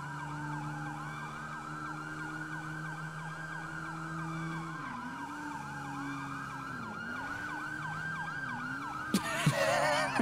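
Two game police sirens wail and yelp together in overlapping rising and falling cycles, steady and loud, with a couple of sharp bangs near the end.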